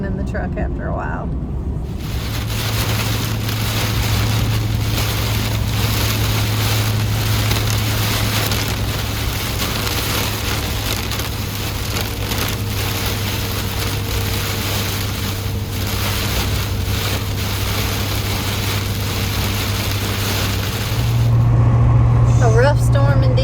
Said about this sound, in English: The wind is blowing everything around. The rain just won't stop pouring.